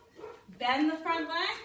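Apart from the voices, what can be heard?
dog barking in the background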